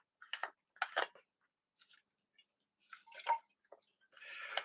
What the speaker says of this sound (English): Sip of water again.